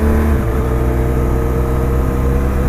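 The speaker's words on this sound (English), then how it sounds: "Bike sounds loud." A loud motorcycle engine runs steadily at close range, a constant low rumble with rich harmonics and no break, while touring on a road trip through Portugal toward Bilbao.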